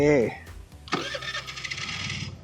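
A GPX DX1 motorcycle engine catches and starts after a brief voice, then settles into a close, buzzing run with fluttering exhaust pulses.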